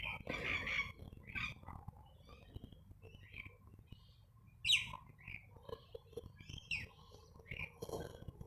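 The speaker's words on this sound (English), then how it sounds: "the birds are coming in. I hope you can hear them." Assorted bird calls and chirps come and go over quiet outdoor ambience, with one sharper, louder call partway through and softer twitters scattered around it.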